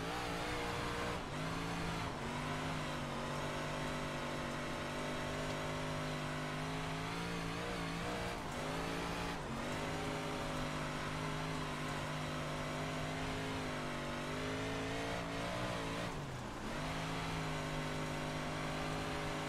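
A 358 modified race car roars continuously in the iRacing sim game, its engine droning loud and steady with repeated rises and dips in pitch as the throttle is worked through corners, with no talking throughout.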